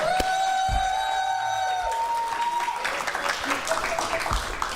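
After a sustained tone fades, a studio audience breaks into clapping that builds into a dense, even patter and carries on to the end.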